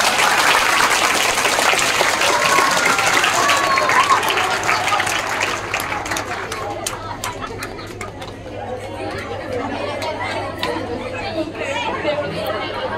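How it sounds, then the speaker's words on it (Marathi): An audience applauds loudly as a school headmaster is felicitated at a student event, thick clapping fading into scattered claps, chatter and pigeons cooing in the background. "जोरदार टाळ्या"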